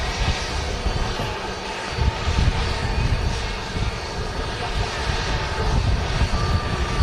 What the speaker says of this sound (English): It is TUI Dreamliner's rolling.